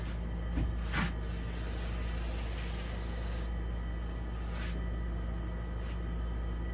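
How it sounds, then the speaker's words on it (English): A continuous hiss of an aerosol spray on a weed eater runs throughout, with a couple of short bursts standing out near the start and middle over a low background rumble. "I'm going to spray this out"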